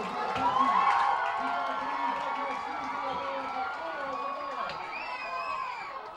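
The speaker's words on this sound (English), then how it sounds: "And the crowd goes wild." At an amateur soccer match in St. Albans, Vermont, a packed sports-complex crowd cheers a long-range goal, a sustained roar that tails off slightly, with a commentator's voice over it.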